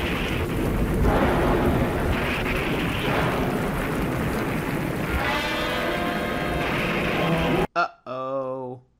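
Lightning strikes and thunder crash in the Ultraman Jack tokusatsu series, a dense rumbling roar with rain-like hiss for several seconds, cut off abruptly and followed by a brief high-pitched cry.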